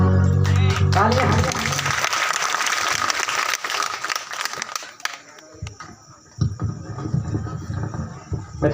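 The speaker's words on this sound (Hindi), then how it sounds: "तालियां।" Applause from a live audience at a stage performance, a dense loud clatter of clapping at first that thins and fades, then returns more softly, with voices mixed in.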